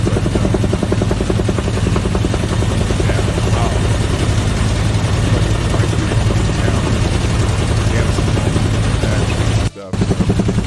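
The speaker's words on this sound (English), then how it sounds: "that's a really loud helicopter thing" Continuous loud rhythmic thudding of a helicopter's rotors over Ruston, Louisiana, steady and close throughout with a brief dropout near the end.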